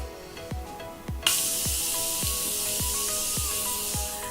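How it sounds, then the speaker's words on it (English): A steady fine hiss of Morphe makeup setting spray begins after a moment and continues, while soft rhythmic thumps of background music pulse underneath. "I'm gonna finish off with a little bit of Morphe setting spray."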